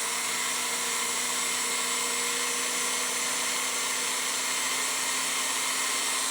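A silicone wheel on a rotary tool grinds down a ring, a steady high-pitched whine with a constant buzzing hum, loud and close and unbroken throughout.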